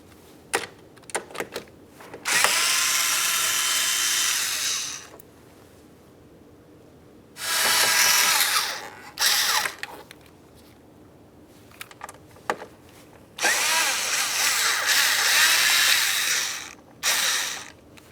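Ratchet wrench removing 10mm bolts from the door of a 2000-2006 Chevrolet Tahoe, with three long bursts of rapid, close clicking separated by short pauses and a few isolated clicks, no voices.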